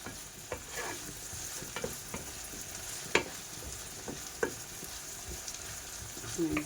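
Asparagus is stirred and fried in a pan with spices, giving a steady soft sizzle broken by sharp, irregular scrapes and clicks of a utensil against the pan.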